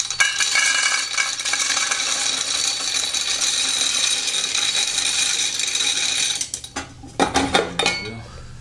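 Hardwood pellets poured through a funnel into a KeyStove LX, a dense continuous rattling cascade that runs for several seconds, then thins into scattered clinks and a few final clatters as the pour ends.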